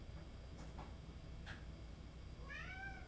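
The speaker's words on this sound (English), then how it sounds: "Meow." A single short cat meow rises and falls near the end, faint against a steady low hum, after a few soft clicks.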